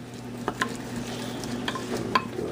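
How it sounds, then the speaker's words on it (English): Onions frying in oil in a pan, a quiet steady sizzle with a few sharp scrapes and taps of a utensil stirring them, close by and without voices. "Now we'll go ahead and put a few onions."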